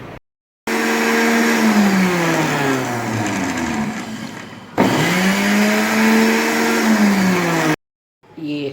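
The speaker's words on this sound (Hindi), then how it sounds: "अब हम पीसेंगे खशखाश" Electric kitchen grinder pulverizing poppy seeds in two loud bursts of steady high-pitched whirring, each motor run sweeping in pitch before cutting off abruptly, with silent gaps between.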